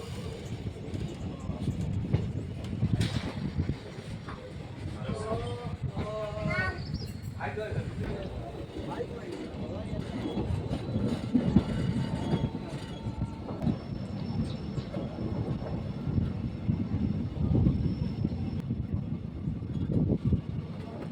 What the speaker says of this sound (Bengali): ট্রেন ঢুকছে মহিষাসন রেল স্টেশন।